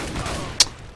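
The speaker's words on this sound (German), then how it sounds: "schöner Schuss von Frost" A single sharp gunshot cracks out in a Counter-Strike match on de_mill, standing out briefly over a steady background wash of game noise.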